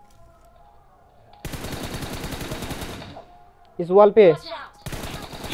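Rapid machine-gun fire from a shooting video game comes in loud sustained bursts, broken by pauses, as players talk between and over the shots.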